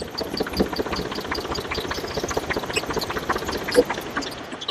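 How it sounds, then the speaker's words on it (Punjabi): A Ford tractor engine idles nearby with a rapid, steady pulsing chug, its rhythm holding even throughout, with one slightly louder knock near the end. "ਲਓ ਜੀ ਇਹ ਫੋਰ ਟਰੈਕਟਰ"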